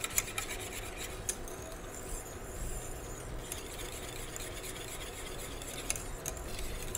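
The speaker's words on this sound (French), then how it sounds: "je gratte bien le fond de la casserole, hein, toujours, pour éviter que ça brûle dans le fond" Spoon scrapes the bottom of a saucepan while stirring pastry cream for chocolate éclairs. It makes a faint, steady rasping and rubbing with small irregular clicks, heard alone.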